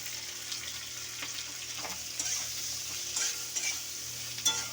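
Kochur loti (taro stolons) with hog plum, salt and turmeric powder being stirred and fried in a pan, giving a soft, steady sizzle with scattered scraping stir strokes that grow a bit sharper toward the end.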